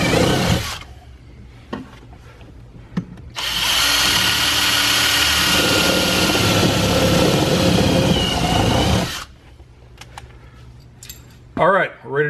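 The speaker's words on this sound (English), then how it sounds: "You're going to take a 5/16 drill bit and you're going to use this bar as a drill guide" A power drill with a 5/16 bit whirs steadily for several seconds, drilling through a car strut bar's holes while fitting it to a Ford Focus, loud and close, with brief handling clatter and quiet movement before and after.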